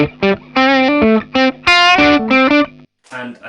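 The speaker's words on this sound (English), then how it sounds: "If we open up the tone cut a bit, you know, this is obviously a bright guitar" A bright electric guitar plays through a Vox amp with the tone cut opened up, a series of crisp, driven chords and notes with a clear attack, then a short pause and a final quieter strum.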